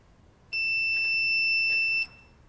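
A quiz contestant's buzzer sounds at a school science and maths quiz competition, a single steady electronic tone held for about one and a half seconds, clear and fairly loud over a quiet room.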